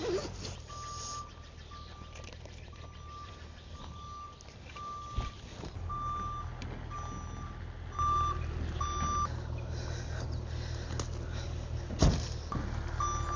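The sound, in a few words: truck reversing with backup beeps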